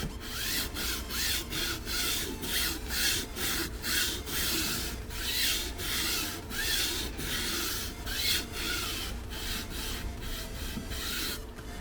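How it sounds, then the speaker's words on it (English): A nylon brush scrubs a moldy SUV headliner with light pressure, making steady rhythmic back-and-forth rubbing strokes, close and continuous, with no talking. "I'm only using a light pressure with this nylon brush because it's such a delicate material that's on the headliners"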